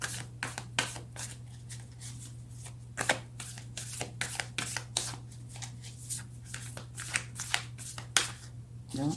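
Tarot cards are shuffled and drawn by hand in a fast, irregular run of crisp riffling and flicking, close and steady throughout over a low background hum.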